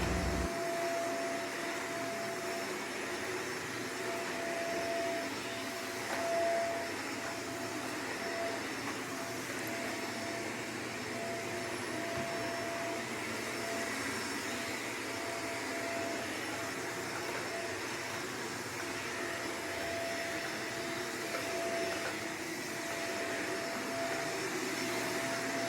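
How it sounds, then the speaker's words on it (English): A household vacuum cleaner runs continuously for a long stretch, a steady whooshing drone with a faint whine on top, moderately loud and even throughout, with no talk. "I absolutely love my vacuum"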